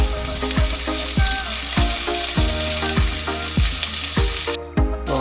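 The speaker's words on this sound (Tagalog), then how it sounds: "Next natin ang kamatis." Tomatoes sautéing in a pan with onion and garlic for a Filipino ginisang upo, a steady close sizzle and fry with a rhythmic run of stirring or utensil knocks throughout, no talk.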